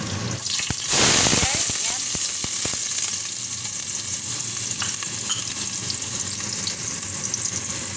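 Garlic, onion and fish sauteing in a pan for a Middle Eastern fish salona, with a steady crackling sizzle, a brief louder burst of stirring near the start and scattered clinks of a utensil, with possible faint talk.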